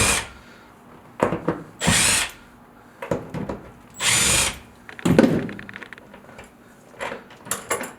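A power drill pulls an old repair flange off a toilet, with several loud, close whirring bursts broken by ratcheting clicks and handling noise.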